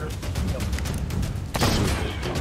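A cannon booms in a pirate-style video game, a sharp broadband blast cutting through dense, noisy in-game clatter and rumble, loud and close.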